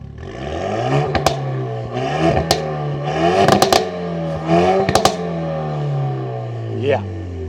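A Renault Megane Trophy-R's 1.8-litre four-cylinder engine is blipped repeatedly in sport mode, sharp revving bursts rising and falling several times over a steady idle, loud and close.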